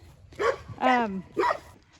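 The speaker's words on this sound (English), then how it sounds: "Stop barking, dog." A dog barks three times at cats in a flower field, sharp close barks spaced about half a second apart.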